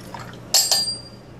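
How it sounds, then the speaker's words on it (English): Two ounces of vodka pour into a glass full of ice, two quick bright clinks of ice and liquid splashing close up, then a short fading trickle. "I'm gonna add 2 ounces of vodka."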